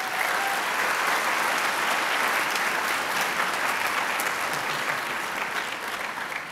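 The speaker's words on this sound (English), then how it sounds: "Let's give them a round of applause." Sustained applause from a large audience at a spring college commencement ceremony, a dense, steady wash of many hands clapping that holds at an even level throughout, with no talking over it.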